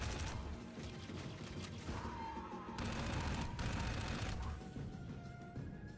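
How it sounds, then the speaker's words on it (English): Heavy gunfire aimed at the player in the Dark Void video game, a dense rattling fusillade with booming bursts that swells and drops over several seconds. "Who else is shooting at me?"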